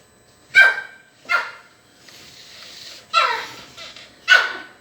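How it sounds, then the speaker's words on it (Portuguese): A small female dog barks in a home, four sharp, close barks spaced across a few seconds with a softer whine between them, no voices alongside. "Quem tá latindo é a cadelinha."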